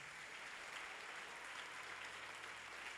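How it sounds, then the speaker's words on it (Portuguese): A church congregation applauds steadily during a worship service, a dense, even wash of many hands clapping at moderate distance with no voices standing out. "Você pode aplaudi-lo em nome de Jesus?"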